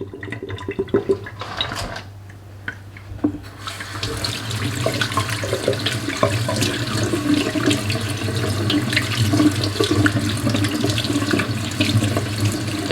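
Tap water runs steadily into a kitchen sink as raw chicken is rinsed under it, a continuous close splashing flow that starts after a few quiet seconds and carries on to the end with no talking.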